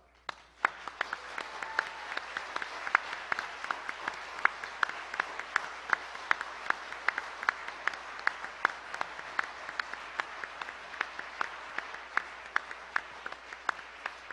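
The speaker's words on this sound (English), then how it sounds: "please give them big applause." Audience applause fills a gala banquet hall marking a 60th anniversary, with steady sustained clapping from many hands and sharp individual claps standing out throughout, moderately distant and without talk.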